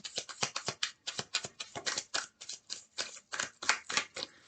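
A deck of tarot cards is shuffled close up in quick, repeated riffling bursts, each a short papery flutter separated by brief pauses, with no talk.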